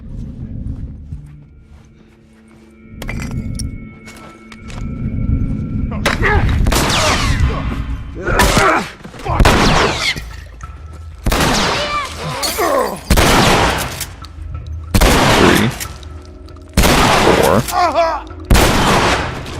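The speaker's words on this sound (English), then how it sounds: "Four shots from a shotgun." Shotgun blasts in the video game The Last of Us: several loud, booming shots fired in irregular succession with short gaps, mixed with rumbling game sounds and some background noise.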